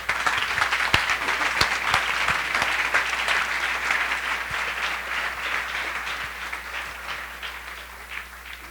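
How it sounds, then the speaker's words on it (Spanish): A large audience applauds steadily for several seconds, a dense, even patter of clapping that slowly fades. "denle un aplauso al Rey"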